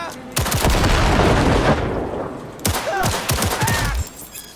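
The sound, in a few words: gunshot in video game Cyberpunk 2077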